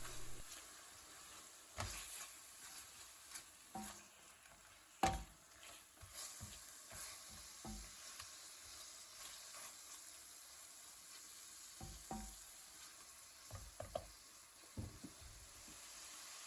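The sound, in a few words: chicken frying and being stirred in a pan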